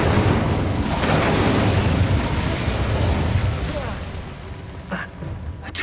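Fiery Incendio spell blast in the wizarding video game Hogwarts Legacy, a loud rumbling whoosh of flame and booms sustained for about four seconds, then fading with a few pops.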